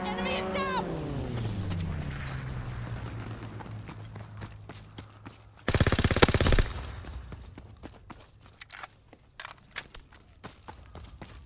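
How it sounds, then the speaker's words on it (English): Video-game fighter aircraft strafing run: a descending engine whine, then a sudden loud burst of rapid machine-gun fire lasting about a second, followed by scattered distant shots and clatter. "Fighter aircraft ready. Call for a strafing run."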